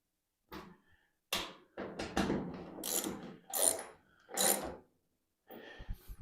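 Screws being tightened on a clothes dryer heater element during replacement, heard as several short, close ratcheting bursts separated by brief pauses, with no speech.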